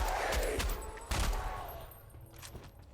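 Rapid bursts of hip-fired gunfire in the video game Beneath, several loud close shots cracking in quick succession with a second flurry near the middle, then tapering off.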